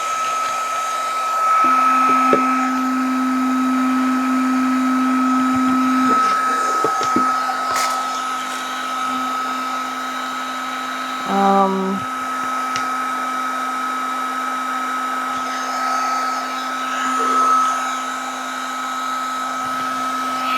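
A heat gun blows hot air in a loud, steady whine that continues throughout, with a brief clunk and a few faint knocks partway through.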